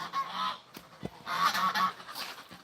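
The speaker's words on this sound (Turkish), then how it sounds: "Kazlar da beni burada peşimde." Geese on a farm honk close by in several loud, overlapping bursts with short pauses between them, and no one talks over the calls.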